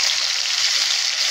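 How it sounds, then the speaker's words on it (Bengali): Onion paste frying in a pan for a Bengali dish of taro stolons with hilsa fish, a steady loud hiss and sizzle throughout with no pauses. "পেঁয়াজটা একটু ভেজে নিই"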